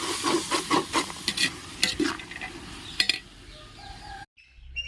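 A spoon scrapes and clatters through vegetable biryani in a large pot, with irregular stirring knocks over a faint background sizzle, then a brief cut to near silence.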